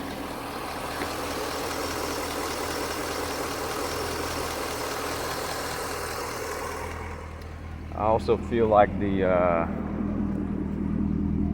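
A 2006 Corvette engine idles steadily through its exhaust with a low, even rumble, and someone speaks briefly over it near the end.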